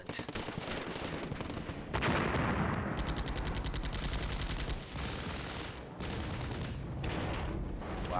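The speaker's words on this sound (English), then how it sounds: "Devastating fire from that tank platoon." Tank gunfire in the Flashpoint Campaigns war game, where M1 Abrams and T-80 tanks clash, heard as loud, dense bursts of rapid gunfire and heavy shots rolling on continuously with brief breaks.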